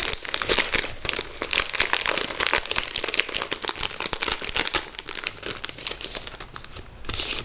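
Paper crinkles and tears steadily as a decorative greeting card is pulled out of its envelope, with dense, close crackling and rustling running continuously without pause.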